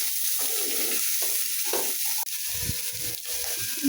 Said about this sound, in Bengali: কারণ হলুদ লবণ দিয়ে আলু ভাজবো।